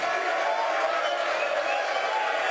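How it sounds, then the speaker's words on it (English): A large live crowd gathered for a sports talk show produces a steady, dense murmur of many voices and general noise, unbroken and fairly loud throughout. "take a look at this crowd"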